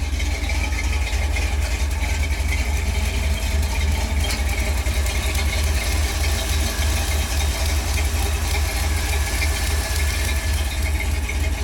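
A custom 1983 Jeep rock-climbing show truck with a bored, balanced 350 Chevy V8 and a 282 cam runs steadily, a loud, close, continuous engine rumble with light rattling and no talk.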